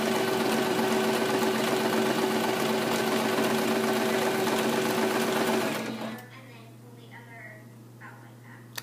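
A home sewing machine runs steadily for about six seconds with a loud, even motor drone, then stops, leaving only a faint background hum.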